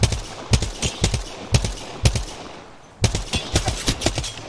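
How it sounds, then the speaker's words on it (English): Gunfire in Apex Legends, a battle royale shooter: a rapid series of sharp, loud shots in quick bursts with short pauses between them, close and clear, and no talking over them. "please stop shooting!"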